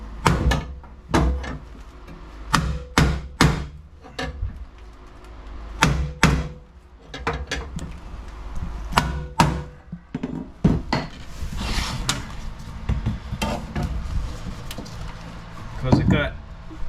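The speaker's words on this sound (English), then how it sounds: "pry bar and a hammer and blocks of wood seem to work." Hammer blows on a pry bar and wood blocks, bending a bus washroom panel lip back up: a dozen or so sharp, loud metallic-wooden knocks in uneven clusters, followed by scraping and shuffling while people talk.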